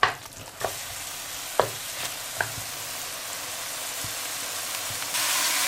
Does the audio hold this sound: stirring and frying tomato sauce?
yes